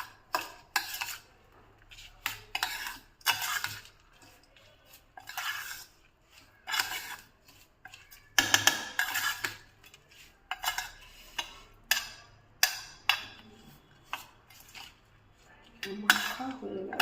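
Food is worked by hand with ghee in a metal pan or bowl, giving irregular bursts of squelching, scraping and clinking separated by short pauses, close and fairly clear.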